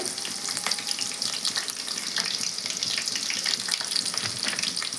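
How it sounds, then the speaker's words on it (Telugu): Onion pieces and dried red chillies fry in hot oil for a tomato dal, giving a loud, steady, close sizzle that runs unbroken through the whole stretch with no voices. "ఆయిల్ అయితే హీట్ అయింది నేను ఉల్లిగడ్డ ముక్కలు వేస్తున్నాను ఎండుమిర్చి అండి"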